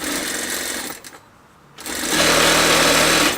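A sewing machine stitches a waistband in loud, fast, even runs of needle strokes, pausing for about a second in the middle before starting up again, close and alone.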